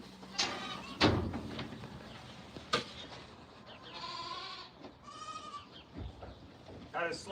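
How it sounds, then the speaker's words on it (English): Goats bleat several times in a barn, drawn-out wavering cries rising mid-clip, mixed with clatter and bumps nearby. "Goats."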